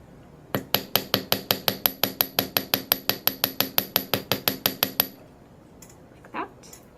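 A hammer strikes silver jewelry links on a metal block in a fast, even run of about two dozen bright, ringing taps, close and loud, followed by a brief quiet with a faint rustle.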